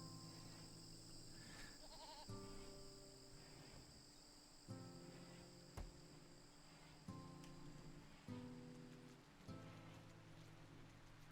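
Goats bleat in the modded colony game RimWorld, with several harmonic calls rising over a steady bed of background tones and rustling ambience, fairly close and even in level.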